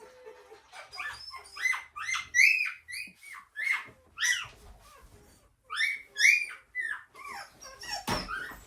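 Newborn week-old bird dog puppies whimper and squeal in a rapid series of high, close, plaintive cries with brief pauses between bursts.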